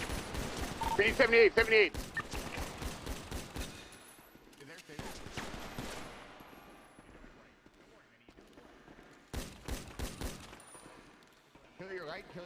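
Gunfire in GTA V: rapid bursts of shots crackle loudly in the opening seconds, then fall quiet before a second short volley, with tense voices talking between the shots.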